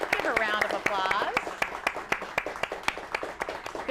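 A studio audience claps at a live television show in a burst of applause that thins into scattered individual claps, while voices and cheering sound over the start.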